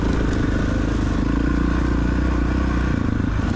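A 1993 Honda XR600R motorcycle is kickstarted on frozen ground at a cross-country ice race, the big single-cylinder engine catching into a loud, steady close-up idle rumble with mechanical clatter.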